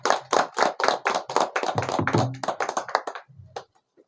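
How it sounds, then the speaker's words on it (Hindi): Close, loud applause from a small group welcoming the newly elected Supreme Court Bar Association president at his residence, a quick run of sharp claps that thins out and stops after about three seconds, with a faint low hum underneath. "जोरदार तालियों से स्वागत।"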